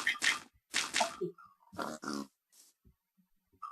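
Pig grunts in the video game Minecraft come in several short bursts separated by pauses, fairly close and moderately loud, with no talking over them.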